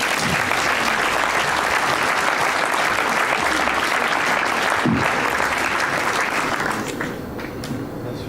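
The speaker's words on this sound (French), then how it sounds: "Merci de l'applaudir." A crowd at a master's program graduation ceremony applauds in a loud, dense burst of clapping that holds steady and then tapers off over the last seconds.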